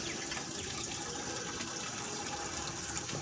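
Water running from a tap into a container at home, a steady, even gush that carries on throughout, close and alone with no talk.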